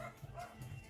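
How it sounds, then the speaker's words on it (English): Several dogs yip and bark faintly in the background of a home kitchen, two or three short, muffled outbursts at a distance. "and that is my crazy dogs in the background."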